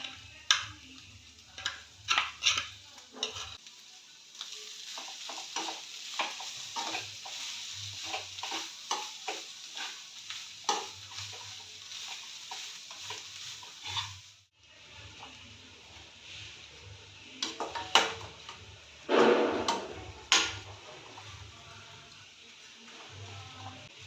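Clam meat cooks in a pan for a clam and tomato roast, giving a steady close sizzle with frequent stirring scrapes and clicks, a brief lull midway, then louder stirring bursts.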